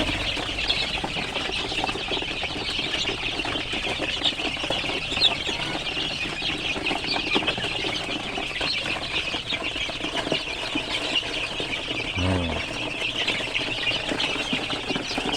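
A flock of over a hundred young KUB chickens, newly arrived in a pen, clucks and chirps in a constant busy chorus, with occasional bursts of wing flapping and scuffling close by.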